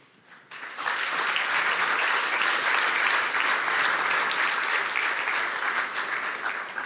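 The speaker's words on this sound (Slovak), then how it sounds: "tento potlesk patril všetkým zamestnancom vo Slovenskom zväze ľadového hokeja" Audience applause fills a hockey awards ceremony for the Slovak ice hockey player of the year, starting after a brief quiet moment and then holding as a dense, steady wash of clapping with no voices over it.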